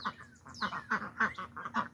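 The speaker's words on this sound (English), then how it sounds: "flock of ducks." Several ducks in a backyard flock quack in quick overlapping bursts, close by and fairly loud, with no talking over them.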